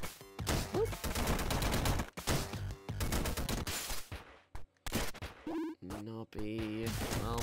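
Rapid gunfire bursts from the retro platformer Downwell, sharp repeated shots in choppy clusters separated by brief gaps, mixed with chiptune-like tones and a voice talking over parts of it.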